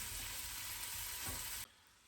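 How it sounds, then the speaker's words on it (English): Pancetta browns in a pan with a steady, even sizzle that fills the space and drops abruptly to near silence shortly before the end. "I want to just brown that a little bit, brown the meat a little bit"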